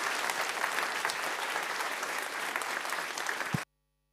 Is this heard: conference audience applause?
yes